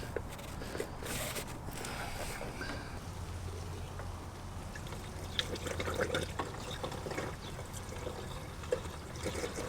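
Coolant pours steadily through a funnel into the cooling system of a 1988–98 Chevy C/K1500 pickup, a continuous liquid trickle and gurgle with faint clinks, close and moderately loud throughout.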